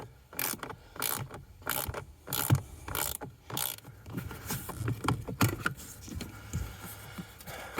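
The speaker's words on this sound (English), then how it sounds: "ratcheting wrench" An 8 mm ratcheting wrench clicking through repeated short bursts of rapid ratchet ticks, close and fairly quiet, working on a Ford F150 blend door repair with light handling noise between strokes.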